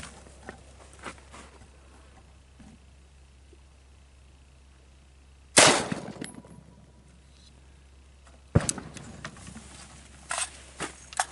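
A rifle round fired at an Armor Core fiberglass armor plate, one sharp loud outdoor crack midway followed by a second sharp impact-like burst later, with quiet rustling and faint movement between.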